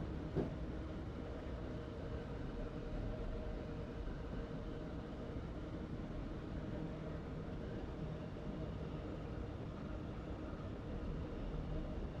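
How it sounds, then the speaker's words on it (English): In the Train Simulator 2015 video game, a train on the West Croydon to London Bridge route coasts with power off, its low steady rolling rumble continuing quietly and evenly, with one brief click near the start. "I'm going to shut off power and let the train coast."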